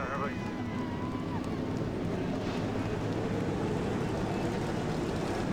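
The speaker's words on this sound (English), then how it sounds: "40 engines come to life" Forty stock car engines fire up together at Daytona in the NASCAR Racing 2003 video game, a dense, steady roar that holds at an even level throughout, with a voice over it.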